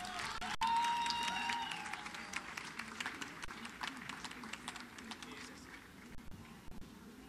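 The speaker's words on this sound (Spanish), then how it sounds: "un fuerte aplauso para el ganador" Applause from an audience at a Telefónica challenge award ceremony, greeting the winner; a moderate wash of clapping that fades in strength, with a voice speaking over it near the start.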